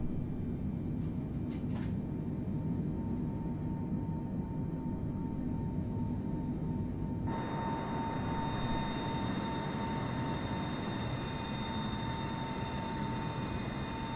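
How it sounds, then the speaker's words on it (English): Aircraft engines spooling up to full power on a takeoff roll in Microsoft Flight Simulator: a steady loud roar that swells partway through as a high whining jet tone rises in, continuous and close with no speech. "Let's spin up the engines to full power."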